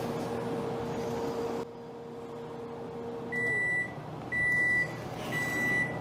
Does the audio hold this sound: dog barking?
no